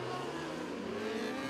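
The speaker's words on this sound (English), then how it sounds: "Close quarter racing off turn number 4 between Standish and Welch." Race cars roar around a speedway oval in close racing off turn four, a dense continuous engine drone with shifting pitch as several cars pass together.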